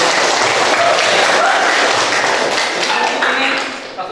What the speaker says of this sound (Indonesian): Ya bagus ya, kita kasih aplaus ya.